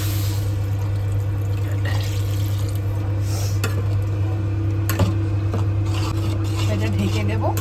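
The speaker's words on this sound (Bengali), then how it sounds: "ভালো আবার জল দিয়ে দিচ্ছি" Water runs steadily into a cooking pan in a kitchen, a continuous close splashing pour with a few scrapes and clinks, over a constant low hum.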